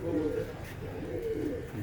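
Sialkoti black-faced pigeons coo softly, two low rolling phrases close by, each swelling and fading, with faint room noise between them.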